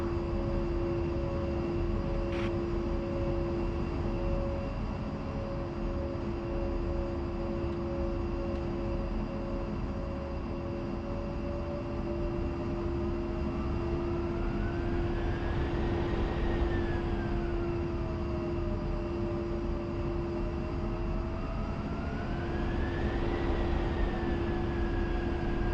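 A steady, loud whine of A-10C jet engines while taxiing in the DCS flight simulator, with constant tones and a slowly rising and falling pitch sweep partway through, no voices.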